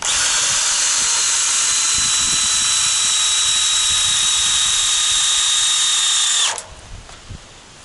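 A power drill drives a long screw through double pressure-treated lumber into a wooden stump for a solar array ground mount, one loud continuous whine that holds steady for about six seconds before stopping abruptly, followed by faint handling noise.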